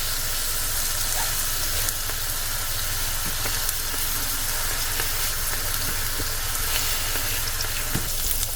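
Homemade turkey and apple sausage patties sizzle steadily in a hot pan, a dense continuous crackle with small pops scattered throughout and no talking.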